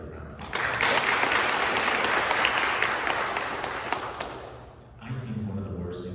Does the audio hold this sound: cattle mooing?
no